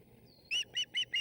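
Young birds call in four loud, rapid, harsh chirps close by, each following quickly on the last, with a faint thin whistle just before them.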